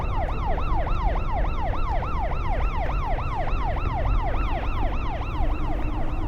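A police siren wails, sweeping up and down in a fast, regular rhythm, loud and continuous with a low traffic rumble beneath.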